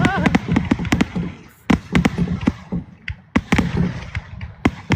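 Fourth of July fireworks over Yorktown burst in a rapid irregular series of sharp booms and crackles, some close and loud, with excited voices talking and exclaiming in between.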